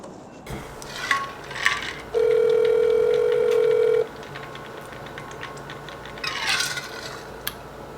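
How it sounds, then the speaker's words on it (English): Telephone dialing at day's end in Lordsburg, New Mexico: a few short beeps, then a steady tone held for about two seconds over a low background hum, followed by faint clicks. "Making those end of the day phone calls before everybody on the East Coast goes to sleep"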